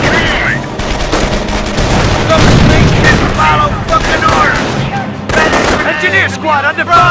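Rapid, dense gunfire from a Company of Heroes battle during the Normandy invasion, with loud overlapping rifle and machine-gun bursts running continuously under shouted voices.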